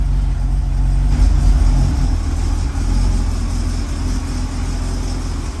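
A 1984 Chevrolet Corvette C4 V8 runs through a modified old exhaust, a loud, deep, steady rumble close by with a slight rise around the second mark and no talking.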